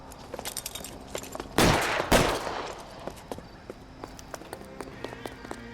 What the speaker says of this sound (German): Ich hab direkt geschossen, direkt, ey.